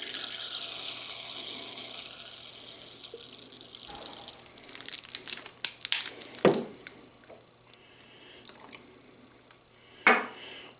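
Ice rattling and clattering in a cocktail shaker while a Moonshine Mary is made, scattered clinks and crunches with a loud crash of ice midway and another near the end, over faint pouring.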